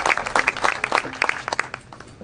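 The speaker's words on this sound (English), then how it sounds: "Round of applause for you guys" Scattered handclaps ring out from the audience at a fado night held by a Portuguese education foundation in Central California, a short, sparse patter of claps with a voice heard over them.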